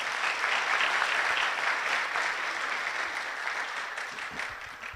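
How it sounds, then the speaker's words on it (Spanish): A church congregation breaks into dense, steady applause that fills about five seconds, loud at first and easing off slightly toward the end, with no voices standing out. "Démosle un aplauso al Señor, hermano."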